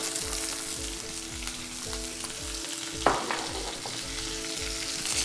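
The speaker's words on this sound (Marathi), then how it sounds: "आता भेंडी भाजून घ्यायची आहे तर तेल तापलं आहे भेंडी घालूया" Sliced okra frying in hot oil over a high flame, a continuous close sizzle with a sharp burst of crackling partway through, over a faint rhythmic low hum.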